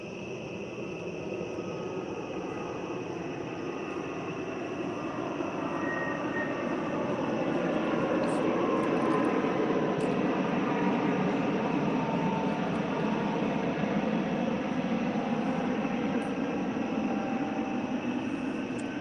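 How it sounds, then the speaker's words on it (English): An airplane drones overhead at night during a fishing outing, a broad steady roar that swells slightly louder midway and holds, with no talking. "Sounds like we got a plane coming over right now."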